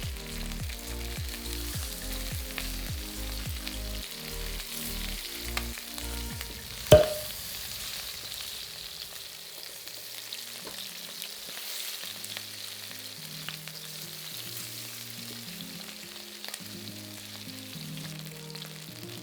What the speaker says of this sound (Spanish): Tenemos que conseguir un color dorado en todas las caras del pollo.